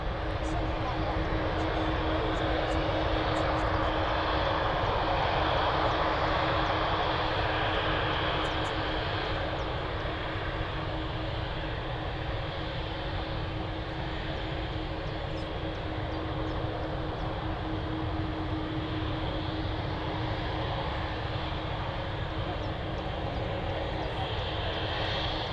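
An Air France airliner at Manchester Airport roars steadily and loudly with broadband engine noise throughout, a sustained jet rumble with no break.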